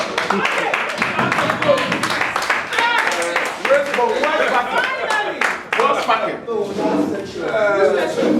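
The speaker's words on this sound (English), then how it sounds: "Clap for her again. In fact, a standing ovation." An audience at a reunion gathering claps through a standing ovation, steady close applause mixed with loud talking and some laughter over the top.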